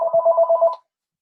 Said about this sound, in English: can you mute your phone, whoever's phone's ringing?